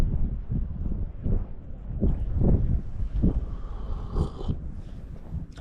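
Wind buffeting the microphone outdoors on a fishing trip at the water, a steady low rumble with gusty swells throughout.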